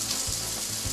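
Bell peppers and jalapeños sizzle loudly in avocado oil in a pan, a steady close crackle and hiss with faint low thumps.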